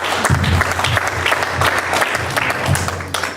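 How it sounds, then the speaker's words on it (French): An audience applauds a community member, a dense, steady round of clapping with a low hum running underneath. "qu'on puisse applaudir une fois de plus Yves"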